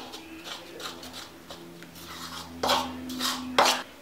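Eggless strawberry cake batter being mixed with flour added in batches, heard as soft scraping and rubbing strokes of a utensil against a bowl, with a few louder knocks near the end, close and fairly quiet.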